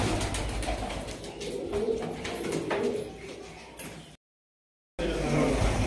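Expensive black high-flying pigeons coo steadily in a loft, with a continuous soft cooing and rustling texture throughout; a brief dropout interrupts it near the end before the cooing resumes.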